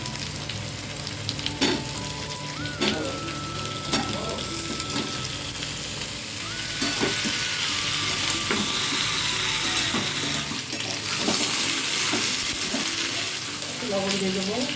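Bay leaf, potato and eggplant sizzle and crackle steadily in hot oil in a home kitchen pan, a continuous close frying hiss with scattered stirring scrapes and clinks, no talking.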